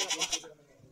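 A goat at a hill temple gives a short, wavering bleat of three quick pulses, fairly close and moderately loud. It fades into a low background murmur.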